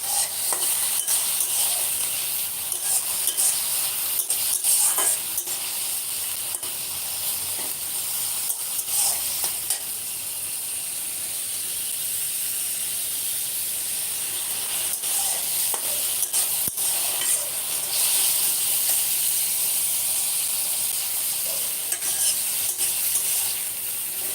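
Young jackfruit curry sizzling in a pan after a splash of water, a continuous hissing fry with intermittent stirring scrapes and knocks throughout, no voices.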